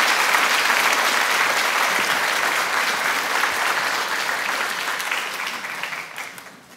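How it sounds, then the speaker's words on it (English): An audience gives sustained applause for young student performers at an education awards event, loud and even at first, then tapering off at the end. "how about another round of applause for these young ladies and gentlemen"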